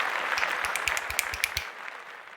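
Applause from a small group for a just-presented reel, a burst of distinct claps that builds briefly and then fades out after about a second and a half.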